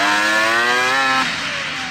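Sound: 2-stroke Can-Am Maverick X3 engine revving

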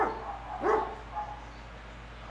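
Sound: dog barking

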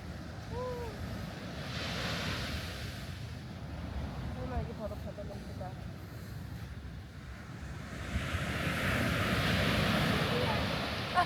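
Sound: ocean waves breaking on a beach

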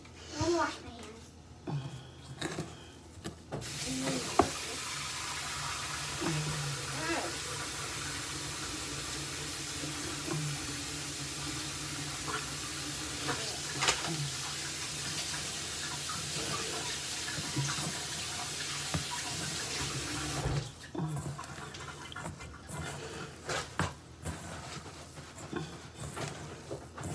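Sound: washing hands under running tap water

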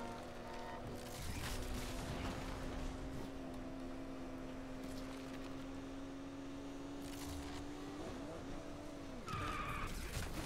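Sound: car skidding on a snap turn in video game Need for Speed Unbound

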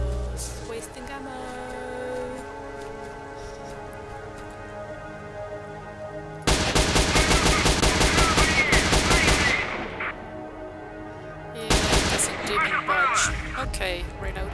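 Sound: gunfire from a video game, Pripyat zone shooter

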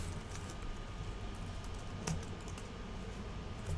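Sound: typing on a computer keyboard

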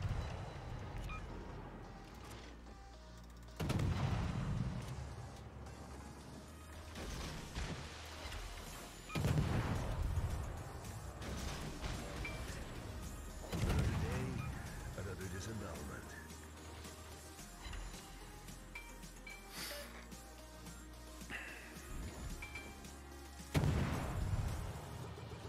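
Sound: destroyer guns firing in video game World of Warships

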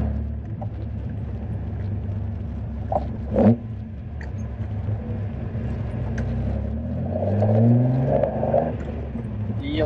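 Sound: Datsun 240Z carbureted engine revving

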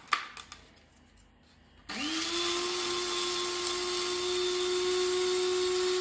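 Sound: Silvercrest electric coffee grinder grinding coffee

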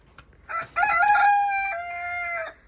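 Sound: chickens

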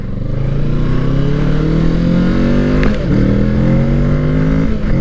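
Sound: 2020 Kawasaki Ninja 650 KRT Edition motorcycle accelerating

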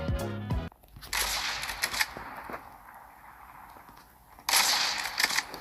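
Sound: gunfire in video game Call of Duty

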